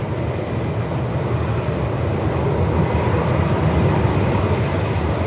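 A Jetstar A321 airliner arriving from Sydney on runway 34 at Melbourne Airport in strong wind, heard as a steady, loud broadband roar of engine and rushing air that holds constant throughout with no speech.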